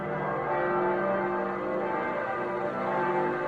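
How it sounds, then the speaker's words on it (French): Church bells of London ringing in unison, a dense, continuous wash of overlapping bell tones that is steady and fairly loud, with no voices over it. "Les cloches de Londres carillonnent ensuite à l'unisson pendant 6 heures d'affilée."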